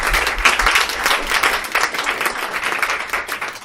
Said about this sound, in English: So big cheer to Nathan